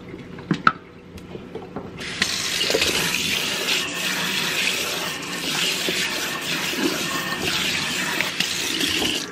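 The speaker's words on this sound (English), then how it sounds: "So I'm gonna drain it and then I'm gonna do another batch of water." Water drains from a sink after a batch of makeup brushes has been washed. It gives a steady, fairly loud gurgling rush after a few small clicks and knocks, with no talk.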